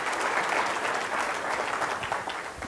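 Audience applause, a dense, steady roar of many hands clapping at once that holds evenly throughout at moderate loudness.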